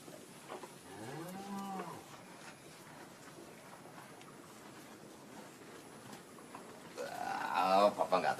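A dairy cow gives two drawn-out moos, the first moderate and the second louder and closer near the end, over faint background noise.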